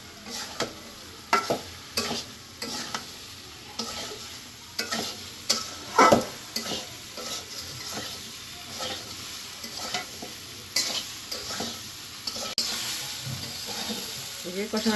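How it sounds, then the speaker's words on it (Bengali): Potatoes and pointed gourd are stirred and fried in a pan: a continuous sizzle with repeated scraping and clattering stir strokes, some louder knocks against the pan, heard up close throughout. "আলুর সাথে পটলের সাথে ভালোভাবে একটু কষিয়ে নেবো"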